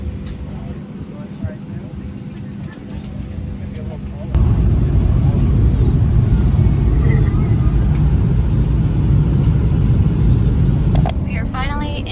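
Road noise and engine rumble of a rental car heard from inside the cabin while driving, a steady low drone that grows louder partway through, with faint voices in the background.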